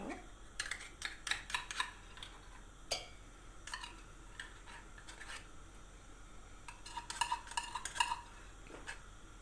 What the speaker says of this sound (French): Et là, je mélange tous mes ingrédients.